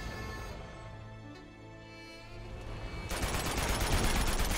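Rapid gunfire from a shooting sequence in Uncharted 2, a dense burst of automatic shots that kicks in loud partway through after a quieter stretch of game sound.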